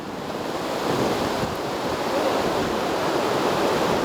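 Steady, broadband rush of a waterfall cascading in a second tier down into a creek in the Flinders Ranges, continuous and fairly loud with no voices.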